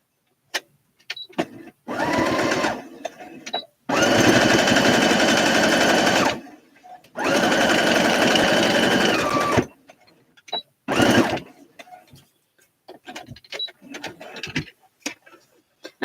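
Embroidery sewing machine stitching a Winnie the Pooh design onto a denim jacket, loud rapid needle hammering in several long bursts with pauses and scattered clicks between them, close and alone.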